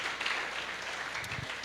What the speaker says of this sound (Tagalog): God deserves that clap offering.